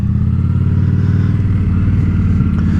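A motorcycle engine drones steadily up close as the bike pulls away in first gear after the clutch is released, a low even rumble with little change in pitch.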